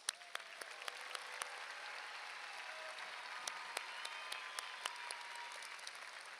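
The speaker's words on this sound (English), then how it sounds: "Let's give them a round of applause." Sustained applause from a crowd at a high school graduation ceremony, steady clapping throughout with a few sharper, louder claps standing out.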